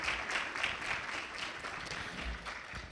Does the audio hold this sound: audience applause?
yes